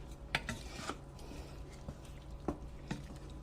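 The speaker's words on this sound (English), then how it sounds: "Stir it up a little bit." Black beans and ground cumin being stirred in a pan with a utensil: soft scraping swirls close by, broken by several sharp metal clinks against the pan at an uneven pace.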